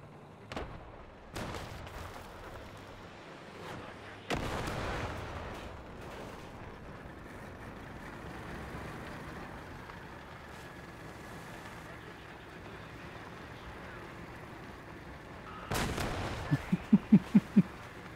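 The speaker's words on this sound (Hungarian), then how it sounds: "Mondom, csak lelövöm már." Cannon and gunfire from a War Thunder tank battle: a few sharp, loud booming shots spaced apart over steady engine rumble, with a burst of rapid clicks near the end and someone talking over it.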